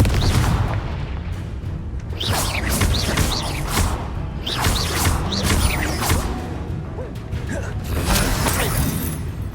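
Confringo blasts and other spells cast in Hogwarts Legacy, a series of whooshing bursts and booming explosions with creaking, mechanical clatter, moderately loud and continuous with no speech.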